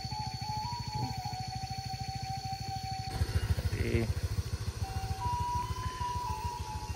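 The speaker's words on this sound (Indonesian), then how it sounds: "Tuh ada 2 motor di atas barusan, baru naik juga." Motorcycles climb a steep mountain road at Muaro Aie, with a steady droning engine hum and pulsing exhaust that swells louder midway, while a higher whine rises and shifts pitch.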